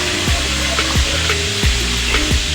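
Fish pieces fry in a pan for a fish-head pumpkin curry, a steady hiss of sizzling oil with periodic scraping strokes of a spatula sounding every half second or so, close and loud.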